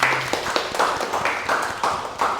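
A small classroom group claps for students who have just presented, the hand claps clear and close in an uneven, moderately paced rhythm, with a few sharper individual claps standing out.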